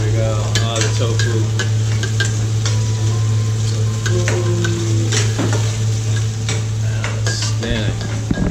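Food is stir-fried over super-high-heat burners in a Chinese restaurant kitchen in Dumaguete City, Philippines: a loud, continuous sizzle with scraping and clattering of the wok and utensils over a steady burner roar.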